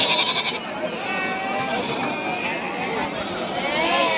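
Goats and sheep bleat repeatedly at a crowded sheep market in Pileru, several animals calling near and far over a busy background of people talking.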